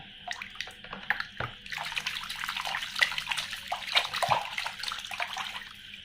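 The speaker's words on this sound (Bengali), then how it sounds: "অবশ্যই আমরা ধুয়ে পরিষ্কার করে দেখব।" A plastic animal toy is rinsed under running water, giving a close, splashy trickle with irregular sloshes and a few soft knocks as the toy is handled, continuous through the clip.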